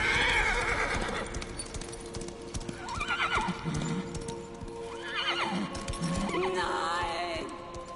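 A horse in the video game Darksiders III whinnies several times over a steady clip-clop of hooves, loud and close, with a stretch of galloping hoofbeats between the neighs.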